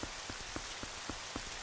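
Steady rain patters on surfaces in The Legend of Zelda: Twilight Princess HD, a dense hiss of drops with soft regular thumps, continuous and moderately loud.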